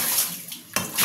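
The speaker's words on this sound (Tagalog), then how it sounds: "bubuan na natin yung tubig" Water poured and splashing into a container, a short close burst with a clatter of a vessel, then a second rush of water near the end.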